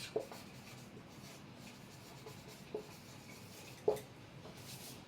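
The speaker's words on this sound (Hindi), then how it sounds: "अब हम पहले पॉइंट पे लिख देते हैं एनवायरमेंट" Marker or chalk writing a point on a classroom board, a quiet scratchy rubbing broken by a few small taps as strokes begin, heard alone without talk.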